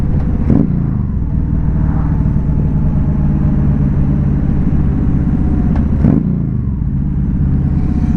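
A 2015 Yamaha V Star 1300 Deluxe SE cruiser motorcycle rumbles steadily on the road with loud, constant low engine drone, with two brief shifts in pitch marking smooth downshifts.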